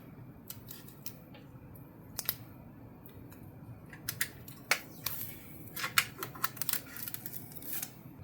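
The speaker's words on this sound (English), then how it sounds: "Here we have the graphics card. Let's peel this off." Protective plastic film being peeled off a Gigabyte Radeon RX 9070 Gaming OC graphics card, heard as quiet, close crackles and crisp ticking snaps that come in irregular bursts and grow busier toward the end.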